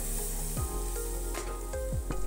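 Fish masala frying in oil sizzles strongly as water is poured in, with a few sharp bursts and stirring scrapes over a constant close hiss.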